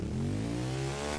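A motorcycle engine in the racing video game The Crew 2 holds a steady, loud revving drone with rising harmonic pitch throughout, no talk over it.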